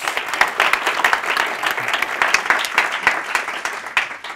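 A conference audience at a 2012 climate change consensus-building event gives a round of applause, dense steady clapping from many hands filling the room for several seconds without talk.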